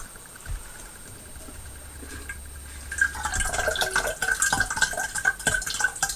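Dirty water dripping and splashing from an Eheim 2213 canister filter as it is removed, quiet at first, then a steady run of close trickles and drips.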